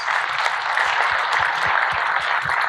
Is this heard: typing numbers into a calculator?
no